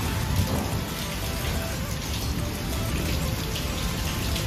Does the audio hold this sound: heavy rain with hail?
yes